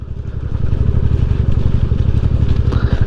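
A motorbike climbs Raika hill through deep forest in Purulia, its engine throbbing loud and close in a rapid steady chug that holds strong throughout, with no talking.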